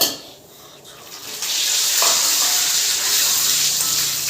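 Fennel seeds splutter and sizzle in hot oil in a pan, with a bright, steady crackling hiss that swells after a quieter start and holds close and fairly loud, with a few faint stirring knocks.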